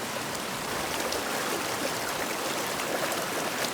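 Water rushes steadily through a Minimax gold sluice, a constant close hiss of flowing water with no pauses, heard alone.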